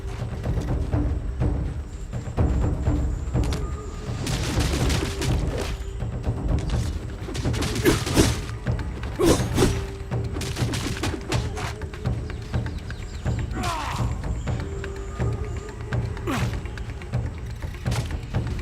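Enemy gunfire aimed at the player in the survival game Soulmask, heard as repeated thumps and dull impacts scattered through a busy in-game soundscape with a low rumbling bed and occasional bird-like calls.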